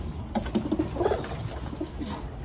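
Pigeons in a rooftop coop give soft, low cooing calls, a few brief coos repeating close by over faint background noise.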